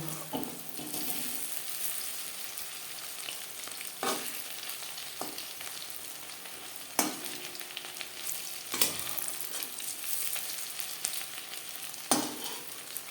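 Crispy egg pakora frying in oil over moderate flame, a steady dense sizzle and bubbling throughout with occasional sharp clinks and scrapes of stirring, close and continuous with no talking.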